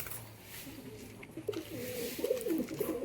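Lakka (fantail) pigeons cooing up close, with soft repeated throaty coos growing louder toward the end over a steady background hiss.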